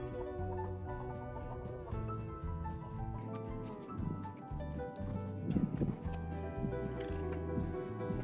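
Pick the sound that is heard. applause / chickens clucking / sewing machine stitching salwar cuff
chickens clucking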